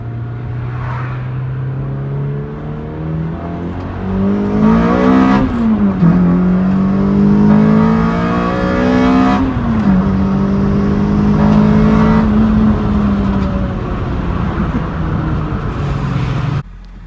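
A car fitted with a cheap eBay cold air intake drives along, engine droning steadily then revving up through several rising pulls and gear changes, loud and close, with intake whoosh over the tone.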